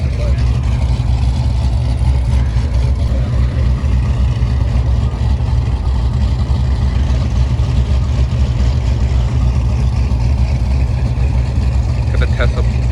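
Twin-turbo Mustang on a street pull against an Audi, another Mustang and a Benz: a loud, steady engine and road drone with wind rush heard from inside the car, holding at an even level throughout.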